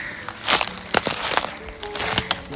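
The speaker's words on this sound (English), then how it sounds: "You can hear this wood crackling from underneath me." Dry, dead log wood in a forest by a runoff creek crackles and crunches underfoot in a few irregular, close bursts of snapping and crinkling, with short pauses between the steps.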